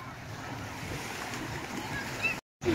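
Sea surf washes onto a beach in Anapa, a steady low rumble of waves with wind buffeting the microphone, broken briefly by a dropout near the end.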